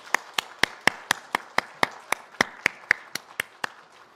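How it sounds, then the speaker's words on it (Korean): Applause rings out in a church during a Sunday joint worship service, heard as a single clear, evenly spaced series of about fifteen sharp claps, fairly close and with no talk over it. "하나님께 영광의 박수 올려드리겠습니다."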